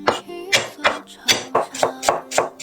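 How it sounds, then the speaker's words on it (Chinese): Ginger and garlic chopped together with a knife on a cutting board: about eight sharp, steady chops in an even rhythm, close and loud, alone without talk. "姜蒜一起切碎"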